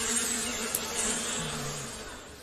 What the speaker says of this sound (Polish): Nad kwiatami latały pszczoły.